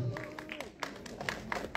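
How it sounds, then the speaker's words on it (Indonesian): Scattered clapping from attendees at a press conference for the film Waktu Magrib builds under a speaker's voice, with sharp individual claps becoming more frequent toward the end. "Tepuk tangan untuk Bima Sena."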